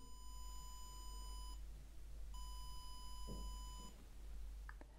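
A steady electronic beep tone from a ROTKEE ExaPen auto-electrician tester, triggered by a 2% voltage deviation, sounds for about a second and a half, pauses, then sounds again for about as long, over a low background hum.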